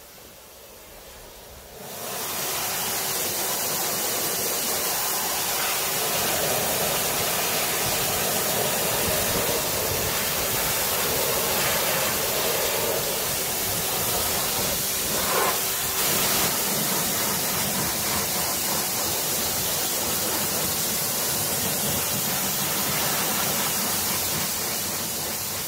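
Free-flowing water from a hose rinsing car wheels, tyres and wheel arches, a loud steady hiss of spray that starts abruptly after a short quiet moment and runs continuously, close up and alone.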